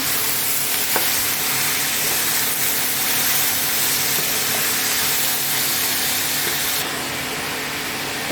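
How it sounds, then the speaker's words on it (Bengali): Ash gourd curry with coconut frying in a pan, a steady broadband sizzle with soft stirring scrapes running continuously throughout, fairly loud and close, no voices. "একটু নাড়াচাড়া করবো।"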